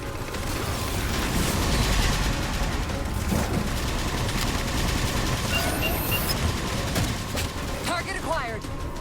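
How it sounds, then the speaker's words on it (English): Railgun shots downing Phantom dropships during a Halo 4 battle: a dense, loud wash of rapid mechanical fire and rumbling impacts runs throughout, with ratcheting mechanism clatter and brief chirping tones near the end. "Target those phantoms for the railgun to shoot down."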